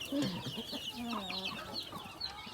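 Newly hatched chicks, including black chickens, fresh from an incubator on a small farm, give soft high peeping calls over a steady low background hum, faint and close, with no voices.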